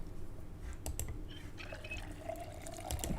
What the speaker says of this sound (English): Fill water bottle.